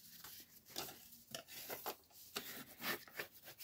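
Paper folds on a journal page are burnished with a tool, giving quiet, close rubbing strokes in short uneven bursts.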